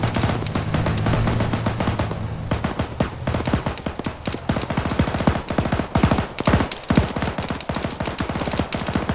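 Sustained automatic gunfire in an Arma 3 battle rattles in long, loud bursts of rapid shots, with a brief lull before the firing resumes densely and continues.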